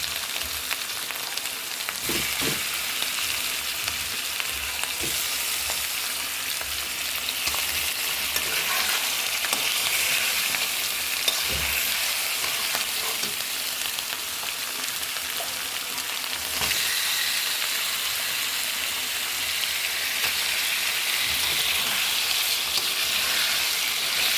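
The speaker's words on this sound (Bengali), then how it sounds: "মাছ মশলা আমি একসাথে কষিয়ে নেব।" Bhetki fish pieces sizzling and frying with spices in a pan, a continuous dense hiss with scraping stirs and occasional pops, close and steady with no talking.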